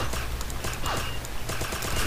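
Rapid bursts of gunfire crackle on an oil rig map in a video game, over a steady noisy background, shots coming in quick irregular clusters at moderate volume.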